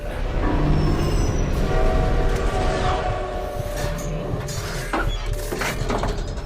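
A train rumbles past at close range, its steady wagon noise holding loud through the whole stretch while a horn sounds over it and faint squeals of wheels on rail come through, with no voices.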